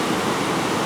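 Brief, steady roar of a raging river torrent by the Mandor cataracts in Peru, loud broadband rushing water with no talk.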